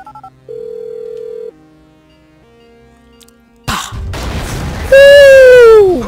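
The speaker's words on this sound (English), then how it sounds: "Beautiful explosion." Electronic beeps and tones give way to a sudden loud video game explosion boom with a rumbling tail, followed by a rising, wavering whistle-like synthetic effect.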